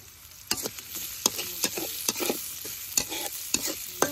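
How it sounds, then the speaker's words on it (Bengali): Green chilies and chopped onion are stir-fried in oil in a wok, with a spatula scraping in irregular strokes over a steady, close sizzle. "কাঁচামরিচ ভালোভাবে ভেজে নিই"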